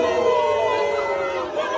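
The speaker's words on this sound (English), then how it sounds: "People lying on the street to boo at the president." Street crowd booing the president, a dense sustained mass of voices jeering and shouting close by, steady throughout the short span.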